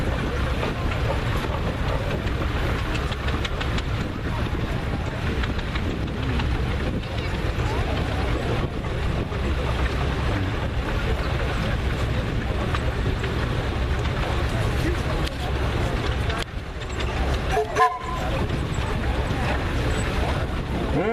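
A smooth-running steam engine at a parade runs steadily with a continuous low rumble and mechanical chugging, people talking nearby over the noise.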